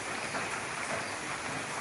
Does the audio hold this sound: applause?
no